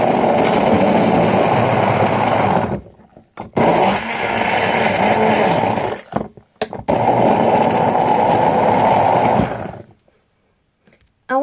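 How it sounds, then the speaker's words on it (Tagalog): A kitchen blender grinds carrots and orange pieces for juice, a loud steady high-pitched whir in two long runs broken by brief pauses, then cutting off to near silence. "Gigilingin natin, maingay, ha?"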